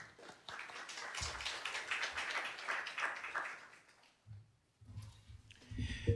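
A church congregation claps to welcome a missionary to the front: dense, steady applause for about four seconds, then it fades out, followed by a few scattered sounds and low murmurs.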